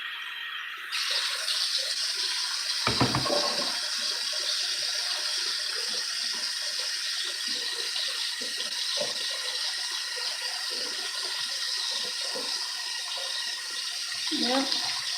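Tap water runs steadily into a sink or basin while something is rinsed during repeated washing, a continuous close splashing hiss with occasional knocks and a brief voice over it.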